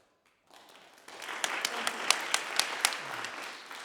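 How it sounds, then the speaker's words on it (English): Audience applause breaks out at a mayoral candidate forum on affordable housing and homelessness, starting softly and swelling into a dense, sustained clapping with a few sharper claps standing out near the end. "people applaud just by your mere presence"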